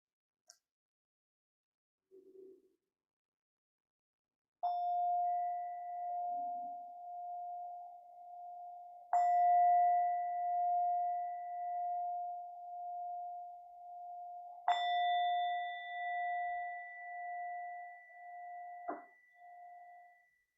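A meditation bell is struck three times to close a practice, each strike ringing out clear and sustained with a slow pulsing decay in an otherwise quiet room.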